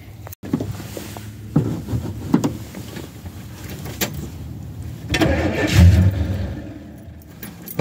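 A 1964 Pontiac with new 2-inch pipes and a Thrush Hush muffler cranks over in a few brief tries, then catches and rumbles near and moderately loud.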